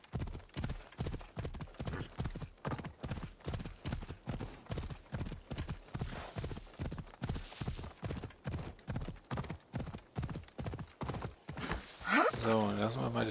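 Horse hooves clip-clop in a fast, steady rhythm throughout in Assassin's Creed Odyssey, loud and close, with a brief neigh or other sound near the end.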